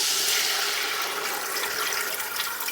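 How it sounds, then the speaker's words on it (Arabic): Roughly a litre of water poured into a pot of browned meat for an Aleppo-style quince stew, a continuous loud rushing splash close up, with no talking. "هلا راح نضيف المي"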